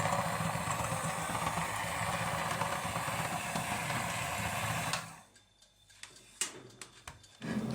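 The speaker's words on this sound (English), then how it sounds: "Fold the spinach mixture into the beaten egg and mix on low speed for about 1 minute." An electric mixer hums steadily on low speed, folding a spinach mixture into beaten egg for a spinach cake batter, running continuously and fairly close before cutting off, followed by a few light clicks and knocks.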